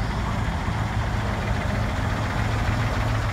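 A steady, low engine idles continuously with a rumbling drone, fairly close and unchanging throughout, at a vintage truck and machinery show in Wauchope.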